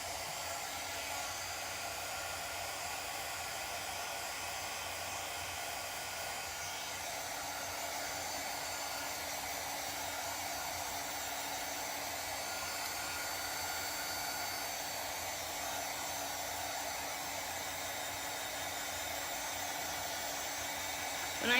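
A hair dryer blows steadily for over twenty seconds, drying chalk paste on a Chalk Couture transfer. The airy, continuous roar stays close and even throughout, with no one talking.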